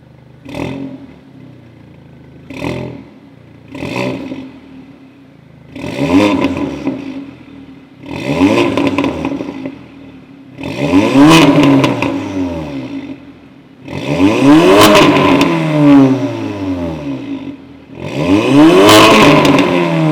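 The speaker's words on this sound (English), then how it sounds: "Let me give you guys some exhaust clips." A tuned Audi S3 engine revs repeatedly through a throaty exhaust, short blips at first building into longer, louder pulls, close by with no talking.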